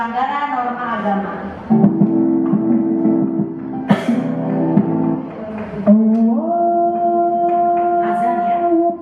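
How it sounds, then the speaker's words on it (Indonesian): The azan, the Islamic call to prayer, is heard in a classroom lesson as a single voice holding long, sustained chanted notes with slow pitch glides, loud and clear with short pauses between phrases. "Azan ya, saatnya sholat."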